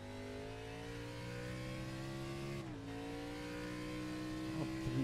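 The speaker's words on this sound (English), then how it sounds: "Just listen to that throttle play." An Xfinity Series race car at Mid-Ohio holds a steady engine note, dips briefly as the throttle lifts, then climbs back to a strong rising tone that heads toward a gear change, all heard from close by with no talking.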